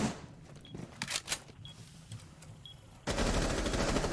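Gunfire during a Rainbow Six Siege competitive match: scattered sharp shots over a low game ambience, ending in a loud, sustained, noisy burst in the final second.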